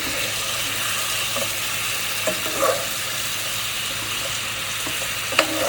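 Chicken sizzles steadily in a pan, frying as it's stirred, with soft scraping and a few faint clinks of the utensil close by.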